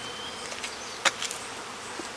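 Honey bees buzz steadily and up close as a package of bees is hived outdoors, a dense humming drone broken by one sharp snap and a few light knocks.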